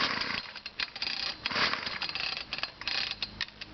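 A cold two-stroke engine with troublesome fuel lines and a worn recoil is pull-started after priming, giving uneven, sputtering bursts of revving that surge and drop, loud and close, without talking.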